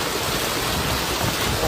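Heavy rain pours down in Bhildi while floodwater rushes through market streets in the Jogamath area. A loud, dense, continuous hiss and roar runs unbroken throughout, with no voices.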